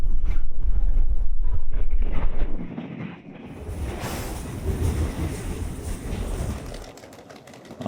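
A KTX train at a Korean railway station platform in the early dawn cold produces a loud, steady low rumble and roar with wind buffeting the microphone, the noise easing slightly and shifting as it passes.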